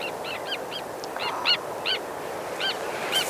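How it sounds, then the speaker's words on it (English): Short, sharp, high-pitched tern calls repeated in small bursts over a steady background rumble, some calls louder and closer than others. "oh hello terns. Oh my gosh, it's so good to hear that again."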